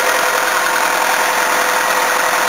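Toyota Camry engine with a blown head gasket, overheated and cooked, idling in a steady loud hum with a rough vibrating edge, close by and with no talking.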